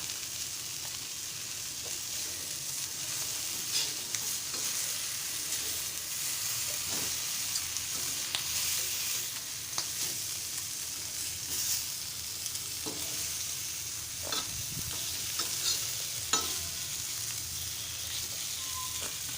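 Malvani-style fish fries steadily in a pan with a constant close sizzle. Scattered scrapes and clicks come through as the pieces are stirred and turned, and no one talks.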